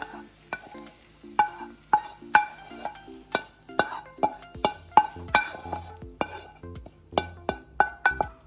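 Peppers and onions are stirred into salmon frying in a pan, with repeated sharp clinks and scrapes of a utensil at a steady, rhythmic pace over a low sizzle.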